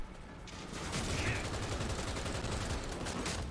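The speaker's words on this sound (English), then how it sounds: "let's try this weapon. Ooh, let's go, guys. It's an assault rifle." Sustained automatic assault rifle fire in the Cyberpunk 2077 video game, a dense unbroken rattle of rapid shots lasting a few seconds over a loud game soundscape.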